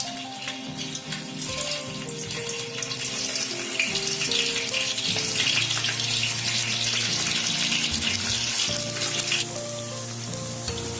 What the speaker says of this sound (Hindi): तेल हमारा गर्म हो चुका है फ्रेंड्स, अब हम इसमें एक एक करके पनीर का टुकड़ा डालेंगे।